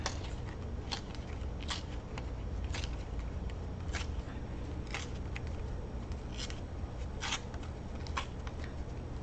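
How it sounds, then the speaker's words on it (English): Paper being torn off a file folder journal page, a series of crisp ripping and crackling bursts at irregular intervals, close but quiet, over a low steady background hum, no voices. "I'm just going to tear this"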